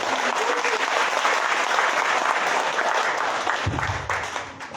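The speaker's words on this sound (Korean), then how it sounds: "큰 박수로 모시겠습니다" A crowd of residents at a Bugok-dong city briefing gives loud, dense applause to welcome the mayor, sustained evenly for several seconds before tapering slightly at the end.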